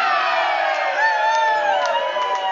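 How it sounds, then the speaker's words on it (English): A loud crowd at a bowling tournament cheers and whoops continuously, with overlapping shouts and whistling voices rising and falling together. "Another big cheer for Edwin Van Aale."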